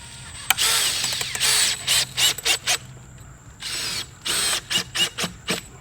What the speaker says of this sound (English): Now I'm gonna take my joist hanger and I'm gonna slide it in and screw it off.